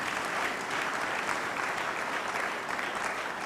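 A church congregation applauding during a sermon, a dense, even wash of clapping from many hands that holds steady at full strength for the whole stretch.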